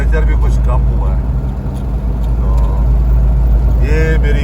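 A Toyota HJ61 4x4 cruising at highway speed with a steady, droning engine and road rumble inside the cabin, continuous throughout with occasional faint squeaks.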